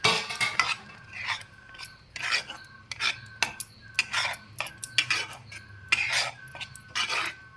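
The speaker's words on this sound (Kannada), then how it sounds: "ಗಟ್ಟಿ ಆಗೋವರೆಗೂ ಹೀಗೆ ಕಲಿಸ್ತಾ ಇರಿ ನೀವು." A spoon scrapes and stirs a thickening semolina mixture in a pan for holige filling, repeated rhythmic metallic rasps in steady strokes, close and clear with no talking.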